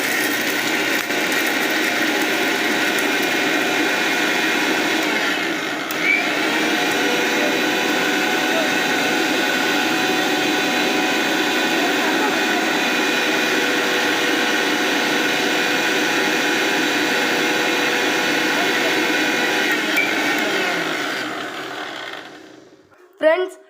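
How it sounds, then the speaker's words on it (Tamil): An electric mixer grinder whirs loudly and steadily as it grinds roasted gram into fine powder, a constant high motor whine that carries on for about twenty seconds before winding down and stopping with a brief clunk. "மிக்சியில் வச்சு அரைக்கலாம் ஃப்ரெண்ட்ஸ், அரைக்கலாம்."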